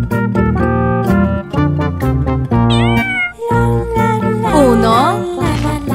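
Cartoon kittens meowing in a children's song, high gliding meows rising and falling over bright, bouncy musical accompaniment.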